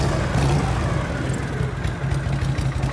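A 1984 Harley-Davidson FLHX engine runs loud and close with an uneven, loping low rumble and irregular pulsing throughout.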